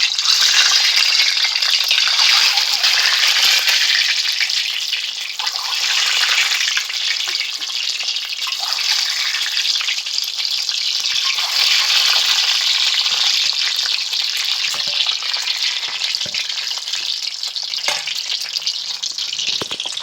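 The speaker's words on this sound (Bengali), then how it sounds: "তেলটা গরম হয়ে গেছে, আমি এবার এর মধ্যে ডিমগুলো দিয়ে দিলাম।" Eggs dropped into hot oil in a pan sizzle loudly and continuously, a bright, crackling hiss that holds steady with a slight dip partway through.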